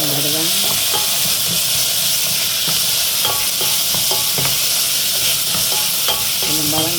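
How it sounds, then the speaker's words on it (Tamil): Onion and garlic sauté in a pan with a loud, constant, close sizzle and hiss. Scraping and tapping stir strokes recur throughout, and a faint voice is heard at the edges. "வெங்காயம், உள்ளி, எல்லாம் போட்டு வதங்கிடுவேன்"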